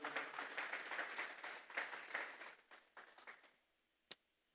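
A church congregation applauds as an offering of praise, a fairly faint burst of rhythmic clapping that thins out and stops, followed by one sharp isolated clap.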